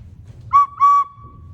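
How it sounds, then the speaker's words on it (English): Two short, sharp whistle blasts, then a steady tone that fades out, clear and close against a quiet low rumble. "the whistle just has the whistle part"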